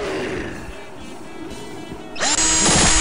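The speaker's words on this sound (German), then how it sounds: "Der Bohrer ist immer total übel." Drill weapon in the Postal 2 mod Eternal Damnation, a quiet rumbling room tone that gives way to a sudden loud, high-pitched whirring spin-up near the end, with no talking.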